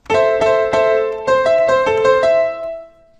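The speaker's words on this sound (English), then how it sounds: "if you remove the delay and the reverb, the piano sounds like this." A dry piano plays a quick run of notes and chords, each attack clear and short, the sound stopping abruptly with no lingering tail.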